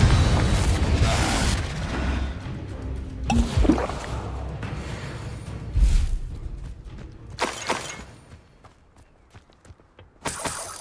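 Confringo, a blasting spell in the game SpiritVale, sets off several heavy booming bursts with crackling debris, loud and close, spaced a few seconds apart over a rumbling background.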